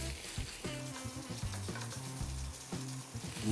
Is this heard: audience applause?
no